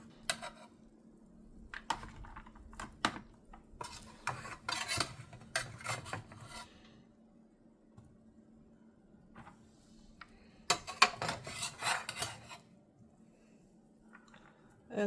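Cooked rice being fluffed in a pot with a utensil, giving soft scraping and rubbing strokes in irregular bursts, close and fairly quiet, with brief pauses between.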